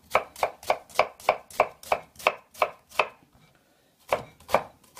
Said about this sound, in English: You can hear that chopping. Knife is a bit blunt